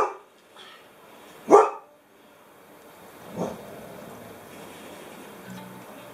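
A dog gives a single loud, sharp bark close by, followed by a fainter bark or two in an otherwise quiet outdoor setting with faint background hiss.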